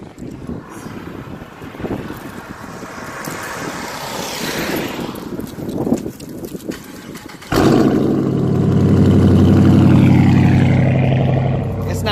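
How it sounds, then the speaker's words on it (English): A Dodge Charger Daytona engine fires up from cold partway through, jumping to a loud, steady idle rumble after earlier gusty wind noise on the microphone. "let's get that cold start."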